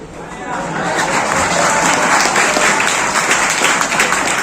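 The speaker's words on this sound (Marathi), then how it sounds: "2-4 टाळ्या वाजताना सुद्धा मला दिसल्या." An audience at a Marathi poetry gathering claps, a full, steady burst of applause that rises quickly and holds strong for several seconds, with faint crowd murmur underneath.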